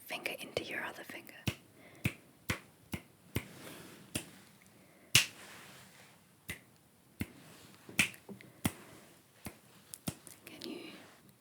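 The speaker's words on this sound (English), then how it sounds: "you click your finger into your other finger" Sharp finger snaps crack out one by one at an irregular pace, close and crisp, with soft whispering and breathy talk in between.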